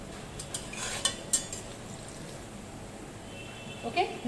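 Golden brown onions stirred in a pan: soft scraping and metallic clinks of a spoon against the cookware over a faint background frying hiss, quiet and close.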